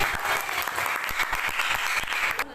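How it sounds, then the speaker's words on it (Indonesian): A classroom of students clapping for a classmate, brisk and fairly close, with sharp individual claps standing out from the steady patter. "berikan tepuk tangan untuk Sari."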